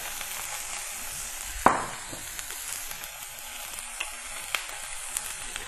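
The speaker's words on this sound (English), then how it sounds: "Now we're just going to let this sear in the pan for about 1 to 2 minutes until it's got this nice golden crust on it." Pork for hoisin wraps sears in a hot pan with a steady, fairly quiet sizzle that starts with a soft thud and carries a few small pops and crackles, with no speech.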